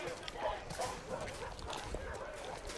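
A wounded dog whimpering and yipping softly in The Last of Us Part 2, faint and close, with low voices speaking in the background.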